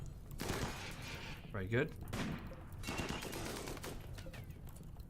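Sniper rifles and a turret fire in the Rimworld video game, with sharp bursts of gunfire scattered across the clip and a voice talking over the shooting.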